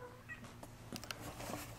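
A house cat cries softly to be let in after coming back from outdoors, giving a short, faint meow in a quiet room.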